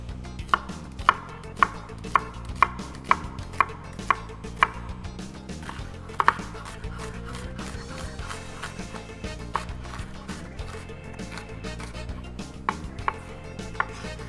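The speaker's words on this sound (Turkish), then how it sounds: "Kuru soğanı dilimleyeceğim." Dry onions are sliced with a knife on a cutting board, giving a steady series of crisp, close chopping taps in an even rhythm with brief pauses, heard alone.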